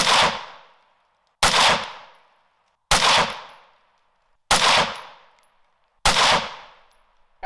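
A rifle fires at a target on dirt and rocks. The clip holds five loud, sharp shots, evenly spaced about one and a half seconds apart, each followed by a short decaying ring, with no talk.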